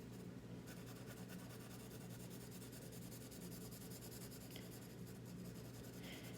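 Constant scratchy rasp of a pencil shading across paper, faint and close, with a few brief strokes standing out in an otherwise even rubbing texture.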